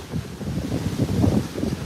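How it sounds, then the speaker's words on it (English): Ocean waves wash steadily in a continuous broad rush at moderate level, with no voices. "There come the waves."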